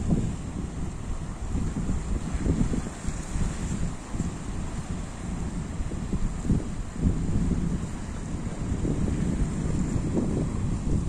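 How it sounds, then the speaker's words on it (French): Steady wind buffets the microphone with a low, rumbling roar that rises and falls in gusts, with no voices. "il y a du vent."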